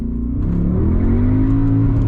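A Mercedes CLK63 AMG Black Series accelerates, its engine tone climbing steadily in a loud, close, continuous drone with no voices over it.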